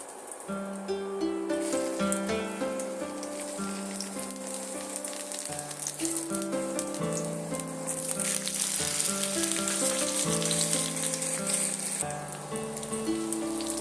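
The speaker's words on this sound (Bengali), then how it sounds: "তেলটা আমার এখানে গরম হয়ে গেল এবার আমি আলুগুলো তেলের মধ্যে দিয়ে দেবো" Potatoes dropped into hot mustard oil for aloo dopeyaza hiss in a steady, even sizzle. Sustained music with steady tones plays over the frying throughout, and no one speaks.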